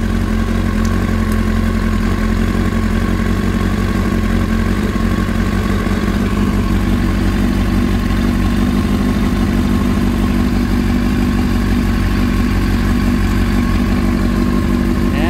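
A motorcycle engine with freshly synced carburetors idles steadily and loudly up close, a smooth continuous rumble with a faint mechanical clatter and no voices.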